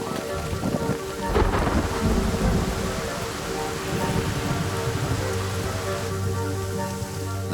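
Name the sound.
heavy monsoon rain with thunder in forest canopy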